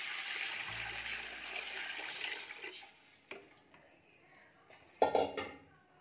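Water is poured into hot oil in a cooking pot for chicken biryani, making a broad sizzling hiss for a couple of seconds, then a few metallic clinks and a splash.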